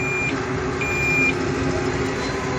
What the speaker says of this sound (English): It does a little beep.